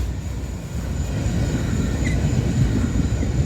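A military freight train passes close by at Abbeville, with a steady, heavy low rumble of wheels and cars rolling continuously.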